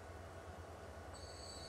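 Train passing in the video game Transport Fever 2, a steady low rumble of rolling wheels with a thin high squeal entering partway, continuous and moderately faint.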